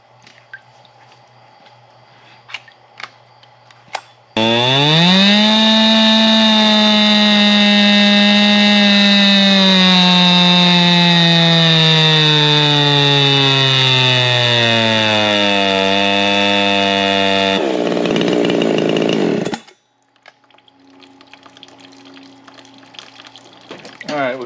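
A ported G372 chainsaw engine, refitted with an OEM coil and its original carburetor, screams at a loud sustained high rev for about fifteen seconds before cutting off. Brief clicks and handling noises come before it, and quieter idling and rustling follow.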